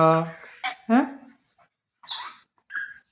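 A dog whimpers and yips in short, close bursts with pauses between, mixed with brief vocal sounds.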